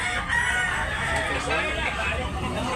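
A rooster for sale at a poultry market in Tabunok, Talisay, Cebu crows once, fairly close, amid low crowd murmur and background chatter.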